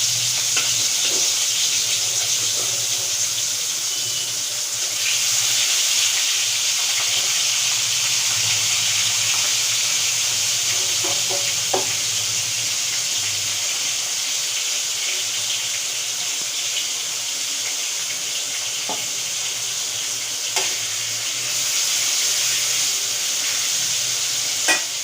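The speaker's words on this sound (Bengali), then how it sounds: "এবারে আমি একটা একটা করে মাছ ভেজে নেব" Pieces of hilsa fish fry one by one in hot oil in a wok over medium-low heat, a continuous close crackling sizzle with occasional small pops and utensil taps, no one talking.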